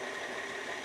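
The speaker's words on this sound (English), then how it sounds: "I love this paddle part of the KitchenAid mixer" A KitchenAid stand mixer with its paddle attachment runs on slow speed, mixing a Swedish blueberry tosca cake batter with the pouring shield on; a steady, even motor whir holds for just under a second with no talk.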